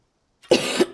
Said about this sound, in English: So sorry for the coughs.